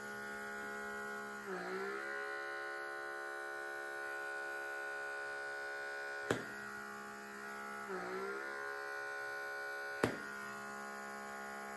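A derma suction pore vacuum device hums steadily near the nose, a constant electric drone with a few brief pitch wobbles as the suction catches and releases, and two sharp clicks, with no voices.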